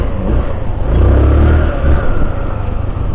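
An Easyride 150N scooter fitted with a new CVT setup and 1200 rpm center spring accelerates close by, its engine note rising in a steady, moderately loud surge before settling back down.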